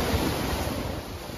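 Sea waves surge and wash below a cliff on Siquijor, a steady broadband roar heavy with wind buffeting the microphone, with no voices.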